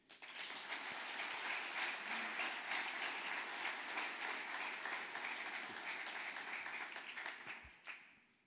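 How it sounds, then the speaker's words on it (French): An audience at the opening addresses of a curators' biennale applauds warmly. The dense, even clapping is sustained for about eight seconds, then fades out. "Vous pouvez d'ores et déjà chaleureusement les applaudir."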